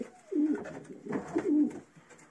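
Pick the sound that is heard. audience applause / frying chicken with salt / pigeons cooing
pigeons cooing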